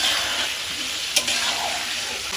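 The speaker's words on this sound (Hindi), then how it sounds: "इसको हम हिला के 5 से 6 मिनट लगेंगे हमारे चिकन को फ्राई करने में" Chicken frying and being stirred in a karahi over a high flame: a steady hiss of hot oil fills the scene, with a single sharp clink of the spatula partway through and no voices.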